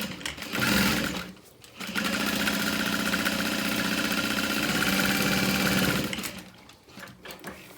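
A sewing machine stitches handbag side panels with a long stitch length, a short burst followed by a sustained run of fast, close mechanical whirring that stops near the end.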